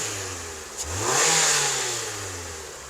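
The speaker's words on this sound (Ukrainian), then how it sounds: "тут мотор запускається, мотор по-любому" A BMW G20 car engine starts and rises into a rev, the pitch climbing and holding before easing back down, fairly close with no talking.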